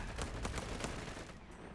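Machine gun fire in Company of Heroes 3, a quick rattle of faint, evenly spaced shots over a short burst.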